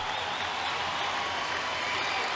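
Ice hockey crowd roaring and applauding after a fight during a Belfast Giants game, a dense, steady wash of cheering from the arena.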